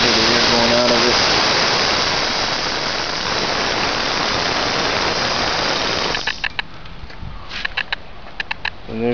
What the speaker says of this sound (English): If I pull this switch, I can hear the air going out of it.